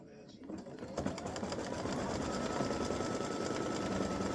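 An embroidery machine stitches a lavender candy design onto a mug rug, a steady close buzz of rapid needle strokes that builds and continues without pause, with a voice speaking over it.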